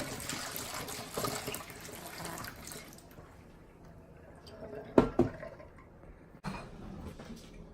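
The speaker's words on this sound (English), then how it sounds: "I'm going to use my own tap water." Tap water running into a container for mead making, a steady splashing stream that cuts off partway, followed by a few knocks and clatters.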